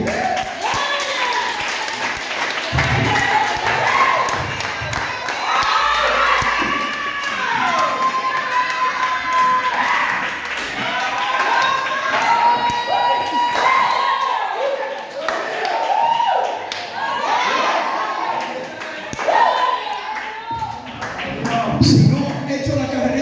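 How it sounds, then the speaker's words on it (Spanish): A church congregation claps and cheers at a lively worship service, a loud, ongoing mix of shouts, whoops and scattered applause with voices calling out throughout. "Haz un aplauso al Espíritu"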